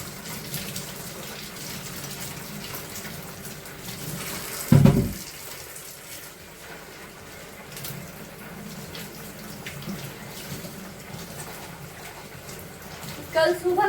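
Vegetables being washed under a kitchen sink tap: steady running water splashing throughout, with a brief louder clatter partway through.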